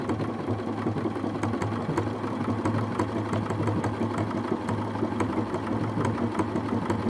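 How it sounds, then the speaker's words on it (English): A Bernina 570 sewing machine stitches out a reindeer embroidery pattern, a steady close mechanical whir with rapid even needle clatter, running continuously without talk. "All I have to do is step on the pedal, and it's gonna go ahead and lower the presser foot for me and start stitching out some reindeer."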